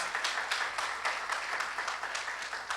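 A church congregation claps together in a steady, even patter of many hands, close and moderately loud, lasting throughout without a break.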